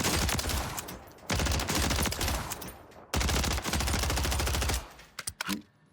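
Automatic gunfire in Warzone on Rebirth Island, sprayed at armored training dummies: two long, loud, continuous bursts with a short gap between them, then a few scattered final shots before the magazine runs dry.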